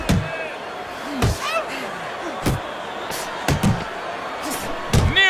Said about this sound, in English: Nearly flooring him, the hook by Cooper